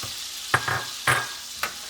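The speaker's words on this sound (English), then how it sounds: "what I have here is some more butter and garlic and parsley that I am going to add to the skillet here" Butter, garlic and parsley sizzle in a skillet beside steak and shrimp, a quiet steady fry broken by three short stirring scrapes, no talking.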